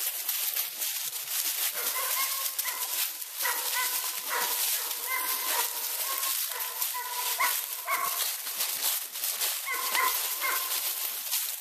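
A dog, one of several named Lizzie and Whaler, gives repeated short yips and barks outdoors, scattered through a constant hissing background that sounds like wind or rustling.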